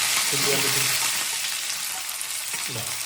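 Spices tempering in hot oil in a well-used pan hiss in a loud, steady sizzle that runs throughout, with a faint voice surfacing briefly.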